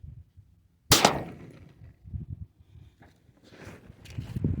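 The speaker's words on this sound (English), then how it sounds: "try and hit that bottle. I've only got 3 shots, but we'll see what we can do." A single sharp gunshot rings out at a shooting range, aimed at a bottle target, followed by faint shuffling and handling noises.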